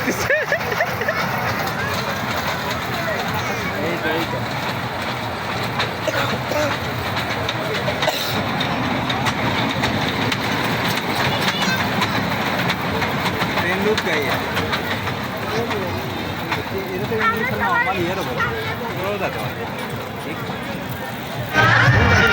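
Train rolling along rails with a steady, continuous clatter and rumble, loud and constant throughout, with the noise rising slightly near the end.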